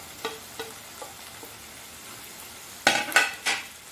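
Dry ground coriander, cumin and garam masala roast in a pan for egg curry, with soft scattered scrapes and taps of a spoon stirring, ending in a few louder sizzling scrapes, and no talking.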